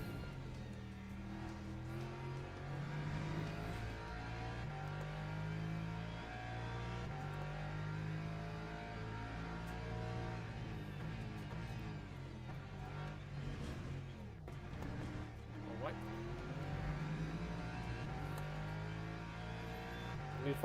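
A BMW race car engine in the Le Mans Ultimate sim racing game holds a steady, continuous drone with layered harmonics, shifting gently in pitch through the whole stretch with no clear gaps.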